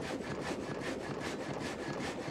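An old sawmill saw cuts through wood with a steady, rhythmic rasping drone, each stroke pulsing in an even beat, loud and close with no voices.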